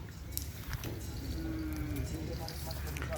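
Madura racing bulls at a Kerapan Sapi training ground in Bangkalan: a faint, drawn-out moo rises over a steady outdoor crowd murmur, with scattered distant clatter and faint voices in the background.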